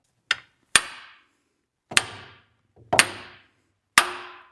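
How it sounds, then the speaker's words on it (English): Five sharp, loud hammer blows knock a part out of a removed transmission, each strike ringing briefly before fading, spaced irregularly about a second apart. "you hit it. No playing around, give it a good hit"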